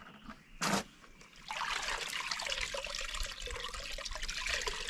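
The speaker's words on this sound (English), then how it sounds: "So what we're gonna do is dump it out and wring it out." Water dumped out of a Fokohon portable washing machine, beginning with a short sharp clunk and then a steady close splashing pour that continues to the end.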